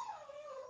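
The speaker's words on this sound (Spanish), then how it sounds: "No sé si escucháis de fondo el gemido de uno de mis perros." A high-energy puppy whimpers in the background at home, a single drawn-out, faint, whiny tone that slides gradually downward with no talk over it.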